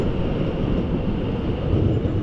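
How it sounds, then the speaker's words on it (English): A train arrives at a Melbourne station on the Clifton Hill Group line, a close, loud continuous rumble of wheels and carriages with a steady low drone throughout; no voices. "now we have an up train coming in from the Clifton Hill Group and a down train heading out on the Burnley Local"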